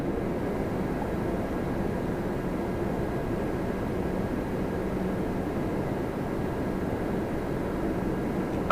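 An Air Transat Airbus A321neo at Toronto Pearson airport makes a steady, broad jet roar that holds evenly throughout. It sounds distant and continuous, with no voices.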